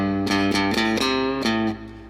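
Distorted electric guitar plays a riff, picked with a firm, intense grip for extra punch; several quick, close, loud attacks, then a ringing note that decays.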